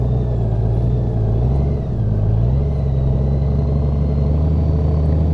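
A Honda Goldwing DCT touring motorcycle engine runs at a steady low rumble during a slow, tight two-space turn test, the note rising and dipping slightly as the throttle changes. It is close and continuous, with no talk.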